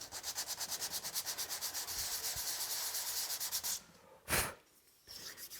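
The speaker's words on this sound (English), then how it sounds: "clean it up on some sandpaper flat on the table" Scorched wood is rubbed back and forth on sandpaper laid flat on a table. The close, rhythmic rasping strokes come quickly and evenly, then stop, followed by a short, sharp scuff.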